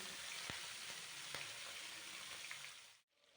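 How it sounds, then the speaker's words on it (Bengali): Prawns fry in a little mustard oil in a pan, giving a steady dense sizzle with a few sharp pops, close and even before cutting off abruptly at the end. "তারপর একটা ফ্রাই প্যানে সামান্যটুকু সর্ষের তেল দিয়ে দেবো মাছগুলো ভাজার জন্য"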